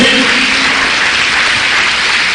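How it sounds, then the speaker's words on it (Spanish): A church congregation breaks into loud, dense applause, a steady roar of many hands clapping close by with no gaps. "Dele un aplauso al Señor."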